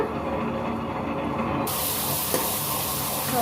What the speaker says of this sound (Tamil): அதுக்கு நெய் ஊற்றிக்கோங்க